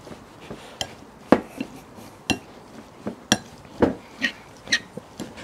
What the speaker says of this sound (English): Bowl of peas, knob of butter, salt and pepper, and then I'm just gonna mash them.